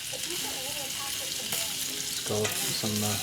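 Shrimps sizzle steadily on a grate over a fireplace barbecue grill, a close continuous frying hiss under a voice speaking intermittently.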